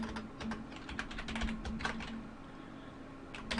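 Quiet, rapid typing on a new computer keyboard, with irregular clusters of soft key clicks and a faint steady hum underneath.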